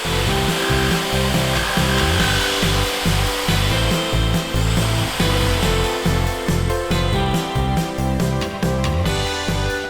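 A power saw cuts through wood for a wine rack in a workshop, a loud grinding whine broken by repeated rhythmic strokes and bursts as the blade passes through the workpiece, with no voices.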